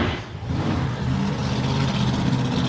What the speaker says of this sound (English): Burn those tyres, put a bit of heat into them. The Mustang of Chris Jackson coming out now.